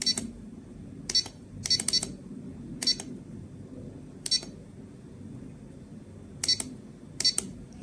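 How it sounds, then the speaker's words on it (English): An RC6GS V3 radio transmitter's timer gives short, sharp electronic beeps, some single and some in quick pairs, at irregular intervals over a low steady hum. "the transmitter will beep"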